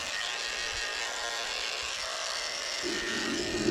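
Electric dog clippers fitted with a 40 blade steadily buzz as they shave the paw pads of a Shih Tzu during a short grooming haircut, a continuous close, thin hum with no talking.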